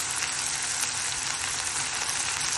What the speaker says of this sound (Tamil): அவ்வளோ போட்டு தக்காளி மட்டும் நல்லா வதங்கட்டும்